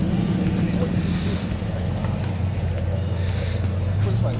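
A big van drives past at a beachside muscle car display event, a steady loud engine rumble mixed with crowd and outdoor noise, holding constant through the short moment.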